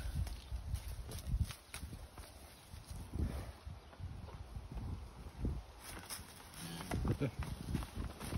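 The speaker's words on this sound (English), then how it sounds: "Can hear that horse all the way from there" Horse hooves clip-clop at a distance on a farm, faint and irregular, beneath outdoor noise and some talking.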